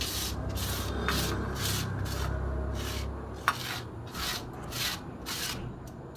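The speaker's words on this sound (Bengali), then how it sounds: "শুকনোভাবে বেটে নিতে হবে, কোনো জল ব্যবহার করব না।" Dry coriander and cumin seeds are ground into a paste without water, a repeated rhythmic scraping rub of stone on spice, close and fairly quiet, with a single sharp knock midway.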